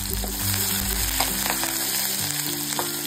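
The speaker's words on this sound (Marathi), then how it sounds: "बारीक चिरलेला टोमॅटो टाकायचा आहे, 2-3 हिरव्या मिरच्या चिरून टाकलेल्या आहेत, कढीपत्त्याची पानं टाकलेली आहेत" Chopped tomato, green chillies and curry leaves fry in a pan for idli upma, giving a loud, continuous close sizzle with a few stirring scrapes.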